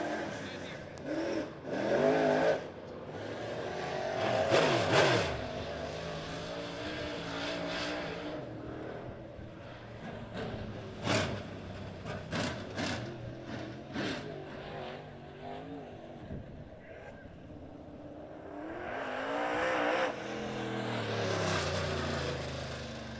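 USRA Modified race cars run a heat race at Monett Motor Speedway, engines revving and passing at a distance in repeated swells, under a track announcer's commentary.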